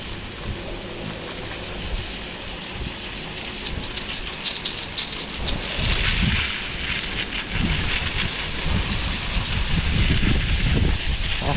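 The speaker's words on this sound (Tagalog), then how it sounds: "Lakas ng hangin." Strong wind gusts across an open farm field planted with lemongrass, a steady loud roar of buffeting against the microphone that swells louder in the second half, with no voices.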